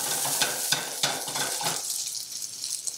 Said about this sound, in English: Go ahead and give that a stir.